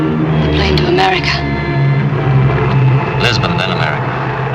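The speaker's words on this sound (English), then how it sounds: "The plane to America." A plane in flight gives a steady, loud engine drone that runs the whole clip, with voices talking over it.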